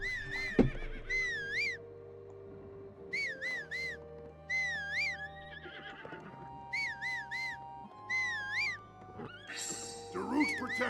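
A horse in The Legend of Zelda: Breath of the Wild neighs and whinnies repeatedly, several warbling high calls spaced apart over low game ambience, with short bursts of other in-game sounds between them.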